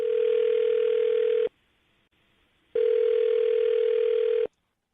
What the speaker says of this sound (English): I'm going to dial her phone number right now, see if we can get her on the phone